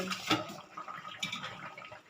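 Dried anchovies being rinsed in hot water, with faint splashing and sloshing of liquid, a brief louder splash near the start and another soon after.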